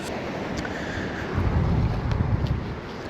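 Wind gusts across a microphone on Easington Beach on the Holderness Coast during sea fishing, a steady broadband rumble with a louder, buffeting stretch midway, heavy and close with no speech.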